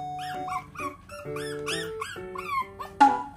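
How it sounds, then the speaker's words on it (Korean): A puppy whimpers and whines in a string of high, wavering cries, ending in a sharper yelp. "그만 낑낑거리고 얘 들어가 자 이제"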